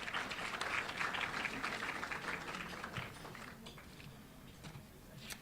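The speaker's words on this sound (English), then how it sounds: "one more round of applause for our dignitaries today." Audience applause at a tourism luncheon, a steady broadband patter of many hands that holds through the whole stretch and slowly eases off near the end.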